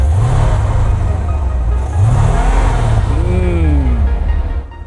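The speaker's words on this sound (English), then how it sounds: "Wait, you gotta rev it first." An old Corvette sits close by and revs in three quick throttle blips, each rising in pitch and then dropping back into a throaty idle.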